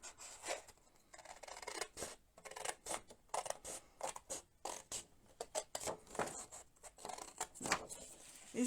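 Scissors snipping through a sheet of paper for a Stampin'Up mini album, a quick series of close, crisp cuts and rasping slides in uneven rhythm, no voice over them.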